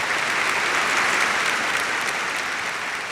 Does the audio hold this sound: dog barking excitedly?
no